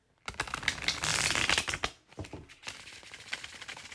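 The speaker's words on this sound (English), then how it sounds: "So I'm going to go ahead and start shuffling the deck." A deck of tarot cards being shuffled close by, a dense run of crisp riffling clicks and rustles for about two seconds, then lighter, scattered card flicks and slides continuing alone.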